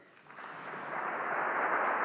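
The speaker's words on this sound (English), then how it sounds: "Thank you for the clap." An audience at an award acceptance speech breaks into applause that builds quickly from a soft patter to a full, steady roar within about two seconds.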